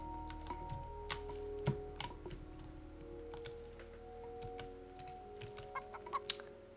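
Chickens cluck in the real-time strategy game Age of Mythology, small repeated clucks and ticks scattered over a steady game soundtrack with droning tones, moderately quiet throughout.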